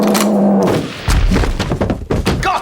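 A gunshot effect in a radio comedy sketch, heavy thudding bangs and knocks close and loud, followed by clattering impacts in a busy mix.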